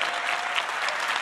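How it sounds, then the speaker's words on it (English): Audience at an Apple iPad mini product announcement clapping, a dense, even wash of many hands applauding in a large hall, brief and steady with no voices over it. "Why are they even clapping that?"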